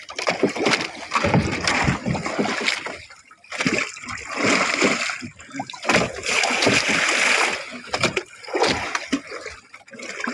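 Cold water splashes and pours into a container packed with ice on a fishing boat, coming in loud, close bursts of gushing and sloshing separated by brief pauses.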